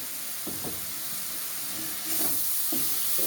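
Ground spices and tomato fry in a pan with a splash of water for a vegetarian cabbage curry, giving a steady close hiss and steam with a few soft stirring scrapes.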